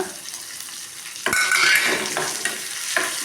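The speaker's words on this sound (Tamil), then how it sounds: "இது நல்லா கிளறி விட்டுக்கலாம்" Onion and green chillies fry in oil in a pan, and a spatula stirs them with quick scrapes and clatters. A louder burst of sizzling comes when they are turned, then the sound settles into steady frying close by with no voices.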